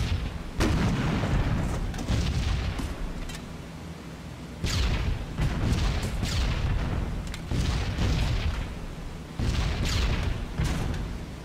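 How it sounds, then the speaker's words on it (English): Anti-aircraft flak bursts around a B-17 bomber in a World War II flight game, heavy booming thuds arriving in repeated clusters over a steady engine drone, loud and fairly close. "Flak coming over now."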